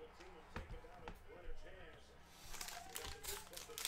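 Cello pack of 2020 Panini Prizm NFL cards being torn open, crinkling plastic wrapper and sharp rips close to the microphone, heard among soft thumps and background chatter.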